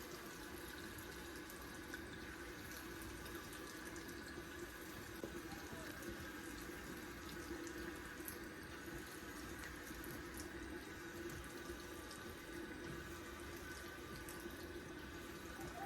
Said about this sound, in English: So I'm gonna get this soaking wet with some hot water